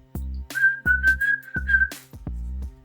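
A church congregation whistling a sustained high note together during a family worship service, with a steady tone held through several breaths and a low hum underneath.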